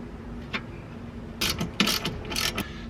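A ratchet clicks as a bolt on a budget angle kit bracket for a BMW E36 is screwed in, in short bursts of close, fairly quiet clicking against a low background hum.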